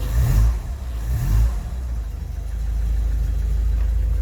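An old car engine, just restarted with the choke half on, revs twice in quick throaty surges before settling into a steady, loud idle close by.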